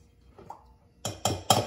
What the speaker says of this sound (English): Next step is to add in your cornstarch.